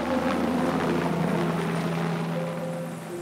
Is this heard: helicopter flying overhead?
yes